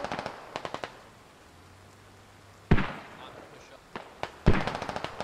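Loud explosive blasts from a C4 charge in the video game Squad Ops, two sharp booming bursts separated by a couple of seconds, mixed with scattered gunfire-like cracks and a low hum in between.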